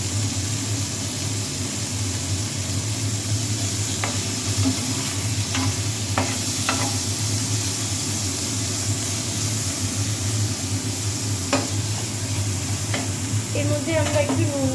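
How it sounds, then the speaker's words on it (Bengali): Minced chicken fries in a pan for spring rolls, a steady loud sizzle throughout with occasional stirring scrapes and clinks on top. "এবার চিকেনটা একটু ভাজা ভাজা হবে।"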